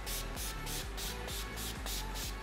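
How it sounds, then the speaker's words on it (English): Rapid bursts of hissing from an Urban Decay All Nighter makeup setting spray, about eight quick pumps in a steady rhythm, close and fairly loud with no voices. "I'm going to use my Urban Decay All Nighter setting spray"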